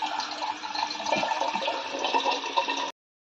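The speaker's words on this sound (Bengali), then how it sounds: "আগে একটু জলটা ভরে দিই" Water rushing from a tap into a container, a loud, steady hissing gush up close that runs for about three seconds and then stops abruptly.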